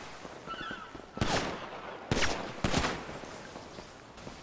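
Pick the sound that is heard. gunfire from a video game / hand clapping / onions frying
gunfire from a video game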